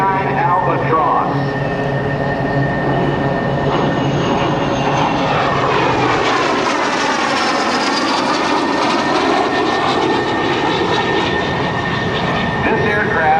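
An Aero L-39 Albatros jet flies at a naval air station airshow, its loud, continuous engine roar sweeping and shifting in pitch as it passes. An announcer talks over it.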